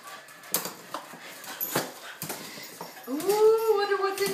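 A dog whimpers and whines in rising, drawn-out tones near the end, after scattered rustling and handling noises.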